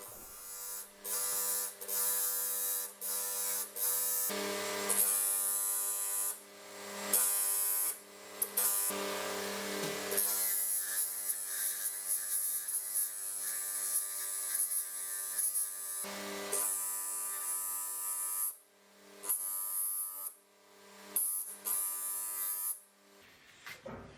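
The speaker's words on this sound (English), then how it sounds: "Just changing to a 120 mesh flap wheel." A 120-mesh flap wheel grinds the head of a 50-year-old ball peen hammer, a steady buzzing motor whine broken by short pauses and dips as the tool is lifted and reapplied.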